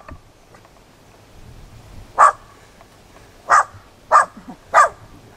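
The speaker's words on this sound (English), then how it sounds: "He's only a tiny dog, they're noisiest, but lovely little dog." A tiny dog gives four sharp, high yapping barks, spaced irregularly over a quiet background on a countryside walk around Rudyard Lake, Staffordshire.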